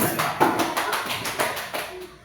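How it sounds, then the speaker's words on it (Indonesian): Hand clapping from a class of students in a classroom, a string of sharp, fairly regular claps at close range, slightly uneven and fading at the end, with some voices mixed in. "tepuk tangan"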